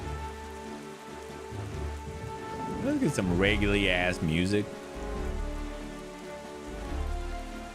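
Stormy rain in the video game Zelda Wind Waker patters continuously beneath dramatic, sustained game music, while someone talks over it partway through.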